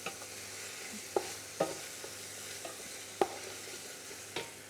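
Shrimp and chorizo jambalaya is stirred in a hot pan: a soft, steady sizzle runs throughout, broken by a handful of light scraping knocks from the spoon against the pan.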